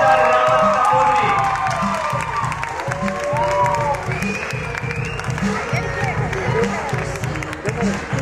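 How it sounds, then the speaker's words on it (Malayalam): Crowd applauding and cheering at the KELI International Kalamela as Saptha Raman receives the Kalathilakam award, loud sustained clapping with shouts and voices mixed in, under an announcer's voice. "ഒന്നുകൂടി ഒരിക്കലും കയ്യടി കൊടുക്കൂ"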